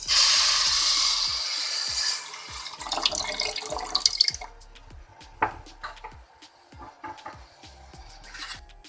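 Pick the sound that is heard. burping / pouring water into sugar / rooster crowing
pouring water into sugar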